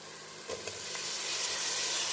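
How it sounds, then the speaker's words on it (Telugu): Tomatoes go into a hot pan for fish curry and start to sizzle, a soft frying hiss that swells and grows steadier over a couple of seconds, heard alone without talking. "ఇప్పుడు ఇందులో టమోటాలు వేసేస్తున్నాం"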